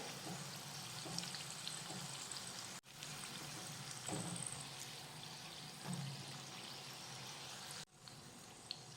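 Shankarpali, crisp spiced flour snacks, deep-fry in hot oil with a steady, dense sizzle and bubbling that runs throughout, quiet and close, interrupted twice by brief near-silent breaks.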